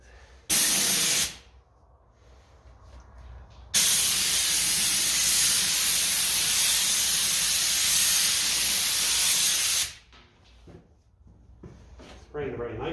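Spray paint hissing onto the wheel rims of a 1954 Ferguson 20 TEF diesel tractor, heard close in two bursts: a short one, then a long steady blast of about six seconds, with quiet handling noises between.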